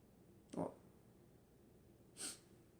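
Two short, sharp nasal bursts a moment apart, like a stifled sneeze followed by a snort, fairly close in an otherwise quiet room.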